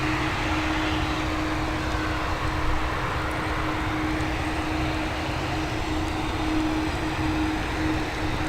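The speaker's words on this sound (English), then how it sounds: "We've got another A330 on taxi." An Airbus A330 taxies at Dublin Airport, giving a steady far-off jet engine rumble with a constant whine over broad, even noise. Nobody talks while it runs.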